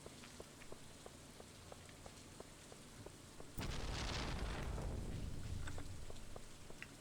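Rain falls in the video game Stardew Valley, a soft steady patter with light ticking drops that suddenly swells into a heavier, louder downpour partway through.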